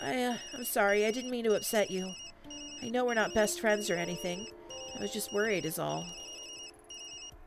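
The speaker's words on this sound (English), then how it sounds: "That's my phone." Phone ringing in Tokyo Dark, a repeating electronic ringtone chirping under a woman's ongoing speech throughout.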